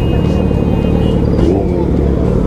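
Steady, loud engine rumble from a Kawasaki Z900 motorcycle idling close by in a public street, a continuous low drone with no clear revs, under background chatter.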